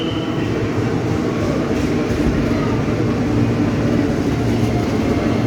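Loud, continuous rumble of a KRL electric commuter train arriving close by at Sudirman station in Jakarta, a broad steady roar with no pauses.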